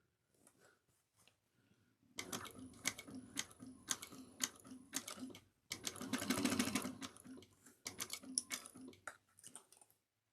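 A sewing machine stitches a bag seam in quick rattling bursts, starting and stopping with brief pauses, fairly close and unaccompanied by speech.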